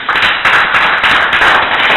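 A church congregation claps together during a sermon, dense bursts of hand claps in a rhythmic pattern, loud and close, sustained for a couple of seconds without speech.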